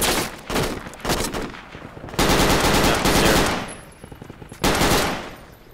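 Game gunfire from the Project Reality military shooter: several loud, close bursts of automatic rifle fire with rapid cracks, separated by short pauses.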